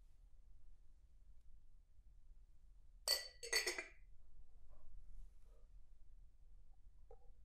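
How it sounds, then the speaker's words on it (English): Glass clinking as one glass is stacked on top of another: two quick bright clinks close together near the middle, followed by a few faint light taps, in a quiet room. "Put one glass on top of the other."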